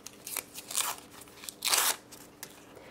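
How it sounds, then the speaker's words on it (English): Backing paper peeled off fusible web in several short, crisp crackling tears, close and fairly quiet, with the longest rip near the end followed by faint rustles. "Peel the backing paper off the fusible web"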